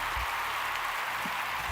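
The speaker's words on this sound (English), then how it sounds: "So we want to give you a little clap on that." Brief round of applause for a team on a live brotherly talk stream, a steady wash of many hands clapping at moderate volume with no talk over it.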